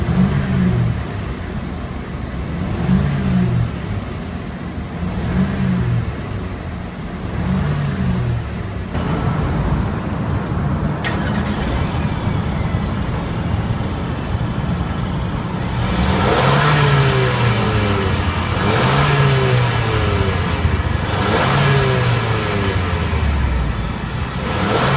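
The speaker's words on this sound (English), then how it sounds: "now we're going to rev the engine and see how it sounds" A 2015 Mercedes-Benz GLA 250 4Matic engine revs repeatedly in short bursts, rising and falling, then a longer series of louder revs toward the end; no talking.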